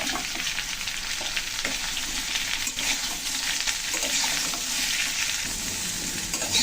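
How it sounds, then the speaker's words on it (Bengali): Vegetables and vegetable stalks frying in a pan with oil, with a continuous loud sizzle and crackle and occasional scraping stir sounds, close up with no talking. "এসব তরকারিটা একটু ভেজে নিলাম, এখন দিচ্ছি ডাঁটাগুলো"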